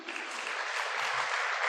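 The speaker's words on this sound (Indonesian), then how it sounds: "tepuk tangan" A church congregation at a first Mass and priestly ordination anniversary breaks into applause, a thick, even roar of many hands clapping together throughout.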